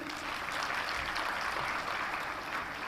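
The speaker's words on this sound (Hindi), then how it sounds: "रूमा देवी को तालियों से स्वागत कीजिए।" An audience at the Rising Rajasthan Global Summit applauds to welcome Ruma Devi, a dense, steady wash of clapping from many hands filling the hall without pause.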